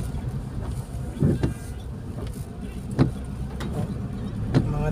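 A car engine hums nearby with a few sharp thumps and clicks, and a vehicle seems to pass at moderate distance under steady road noise, at night in the rain in Benguet, Philippines.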